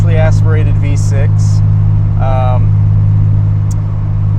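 A 1991 Nissan 300ZX with a naturally aspirated 3-liter V6 drives along, its engine a steady, loud low hum heard from inside the car while someone talks over it.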